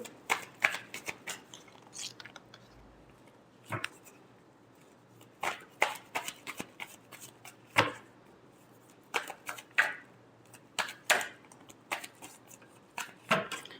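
Tarot cards being shuffled by hand, repeated crisp riffling bursts close up, coming in uneven pulses separated by short pauses, with no talking.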